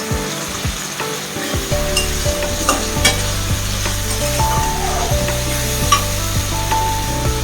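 Ginger and coriander powder sizzle loudly in a pan for katla fish curry while a spoon scrapes and stirs in quick, uneven strokes, with sharp clinks against the metal over a constant frying hiss.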